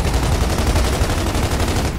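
Rapid automatic gunfire from the video game Gears of War 2 rattles continuously in a dense, loud, fast stream of shots with no pauses and no voices.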